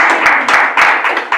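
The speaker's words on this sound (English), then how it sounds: "Your applause." Short burst of hand clapping from a small group at a Ukiah Valley Sanitation District board meeting, close and moderately loud, with uneven claps over about a second and a half.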